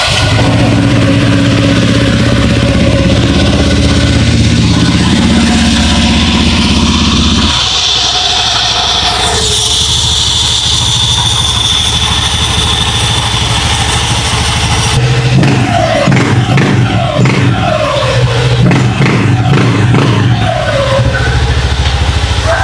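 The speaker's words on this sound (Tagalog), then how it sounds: "Pandarin muna natin itong ating motor para malaman natin kung may naiwan ba tayo, may hindi tayo nilagay." Honda Click 125 scooter freshly reassembled after a CVT cleaning, its engine running loud and close throughout, shifting from idle to steadier revving, with a burst of rising and falling throttle blips near the end.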